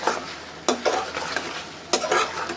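Bottle gourd stir-fries in a spice paste in a pan, with a loud, continuous sizzle and several sharp scrapes of the spatula stirring it; no talking.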